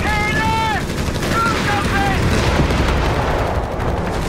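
Machine gun fire in the Company of Heroes 3 strategy battle game rattles continuously and loudly, a dense wash of battlefield shooting with a few brief tonal sounds over it early on.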